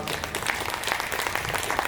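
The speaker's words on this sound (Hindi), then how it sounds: "7-8 लोगों ने ताली बजाई है" Audience applause at a Hindi poetry stage show, a steady sustained patter of many hands throughout with no break, moderately loud and even.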